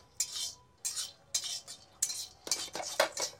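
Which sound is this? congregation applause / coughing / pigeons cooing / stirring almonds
stirring almonds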